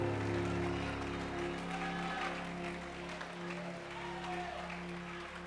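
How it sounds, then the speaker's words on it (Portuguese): A church congregation applauds steadily, a dense wash of clapping over sustained music tones, with a voice heard faintly. "aplaude a Ele aí com toda a tua força"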